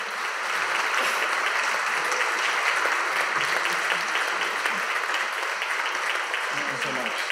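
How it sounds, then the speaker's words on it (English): Sustained audience applause fills the room at an award presentation for the Face of Hope Award, a dense, even wash of clapping holding steady at the same loudness throughout with no pauses. "So if everyone could please give William Benjamin a round of applause"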